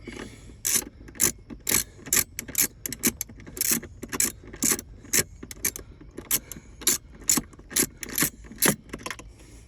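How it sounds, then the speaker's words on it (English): A 3/8-inch ratchet with a long extension and 10 mm socket clicks in quick bursts as nuts come off a 2023 Hyundai Ioniq 5 center console, with close, repeated pawl clicks separated by short pauses and no voices. "Got a long extension, millimeter socket, 3/8 ratchet."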